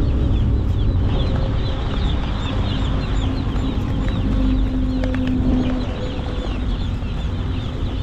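Many small high chirps and peeps from a crowd of chicken chicks, steady and overlapping against a constant low background rumble.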